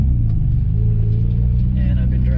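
A Honda Civic EK engine idles with a loud, steady low rumble right after starting, close to the listener, while someone talks over it.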